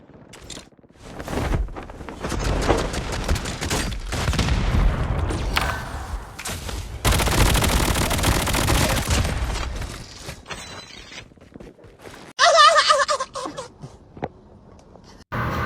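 Gunfire and explosions in a shooting video game, with dense bursts of shots, booming blasts and sudden cuts between loud passages, heard without talk.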